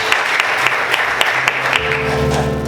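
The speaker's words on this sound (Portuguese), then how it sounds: "Você consegue aplaudir o Senhor nessa noite?" Church congregation applauding during an evening service, a steady round of many hands clapping, moderately loud and even, with a low sustained tone underneath toward the end.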